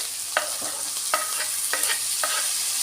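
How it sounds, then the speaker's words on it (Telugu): Tomatoes and fresh coriander sizzle in a pan for moong dal khichdi while a spoon stirs them, giving a steady hiss with a series of crisp scraping strokes in a loose rhythm, close and without speech. "టమాటా కొత్తిమీర వేసుకొని కలుపుకోవాలి"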